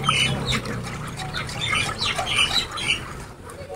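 Birds squawk and call outdoors in repeated bursts over a steady noisy background, moderately loud and fairly close, with no talk.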